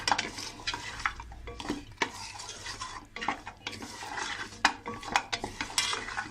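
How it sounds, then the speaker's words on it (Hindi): A utensil stirring beef nihari with garam masala in a cooking pot, repeated scraping and clinking against the metal over a faint sizzle, close and steady with no voice. "अब हम इसमें गरम मसाला ऐड करेंगे, अच्छे से इसको मिक्स कर लेंगे"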